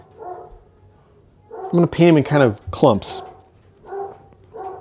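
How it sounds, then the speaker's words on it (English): Dogs bark in short bursts somewhere in the background of a home workspace where a backdrop of pine trees and grasses is being painted, with someone talking steadily over them. "sorry about my dogs"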